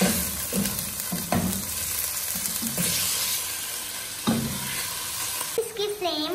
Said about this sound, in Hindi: देखिए अच्छे से फ्राई हो रहा